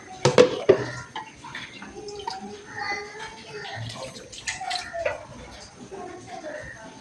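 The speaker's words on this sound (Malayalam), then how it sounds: "കുറച്ച് വെള്ളം ഒഴിച്ചു." Water is poured into a container while making pineapple pachadi, with splashing and gurgling, mixed with clinking of kitchen utensils and some nearby talk.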